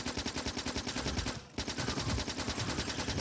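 Gun turrets in the Factorio video game fire on small biters in a rapid, continuous machine-gun rattle, loud and close, with one brief lull midway before the stream of shots resumes.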